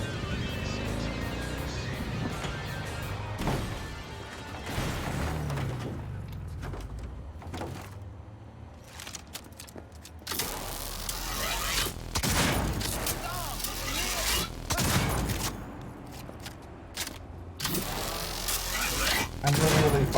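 Chaotic bursts of crashes and bangs over car engine noise in the video game Cyberpunk 2077, with loud impacts scattered irregularly throughout and brief quieter gaps between them.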